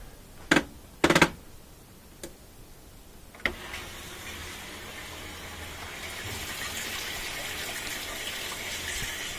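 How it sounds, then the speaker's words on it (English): A Kenmore top-loader washing machine starts filling with warm water: after a few clicks and thumps, a steady rushing gush of inflowing water continues evenly to the end. "That volume of water coming in on warm is really good."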